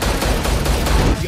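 Loud, close gunfire crackles in a rapid, dense volley with no pauses, like several weapons shooting at once.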